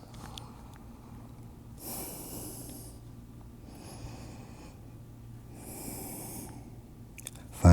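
Deep, slow yoga breaths during an Ashtanga pose come as three long, airy, hissing exhales at a steady rhythm, close and fairly soft, with quiet gaps between them.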